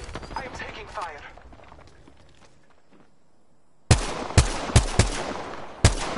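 First-person shooter gunfire: a handful of sharp, loud shots in an irregular burst toward the end, preceded by quieter game noise and faint voices.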